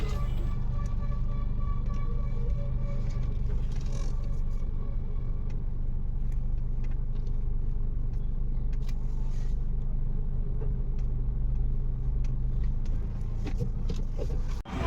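A car idles and rumbles steadily nearby as it is being parked, a continuous low engine drone holding level throughout with no talking.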